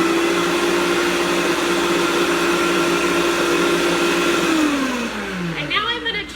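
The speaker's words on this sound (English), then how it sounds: "my blender's really loud" Kitchen blender crushing popsicles, a loud steady motor whine running for several seconds before the pitch sweeps down as it is switched off and spins to a stop.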